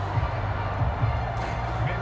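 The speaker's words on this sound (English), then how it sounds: "How about some applause for the defense there?" Stadium crowd at a 2022 NFL game between the New Orleans Saints and San Francisco 49ers applauds and cheers a defensive stop, a steady, dense roar filling the whole stretch with no clear peaks.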